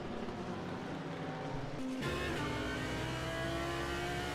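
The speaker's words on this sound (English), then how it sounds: "Listen to that R8 engine as we ride on board with Giuseppe here." An Audi R8 GT3 race car in a sim racing GT3 series round at Imola, heard onboard: a loud, steady engine drone climbs in pitch, briefly shifts near the middle, then keeps rising, with no talk.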